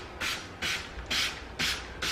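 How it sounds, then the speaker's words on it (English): Downy Wrinkle Releaser sprayed from a trigger spray bottle onto fabric in sweeping passes, giving five evenly spaced, hissing bursts about half a second apart, close and alone. "So I am spraying this in a sweeping motion,"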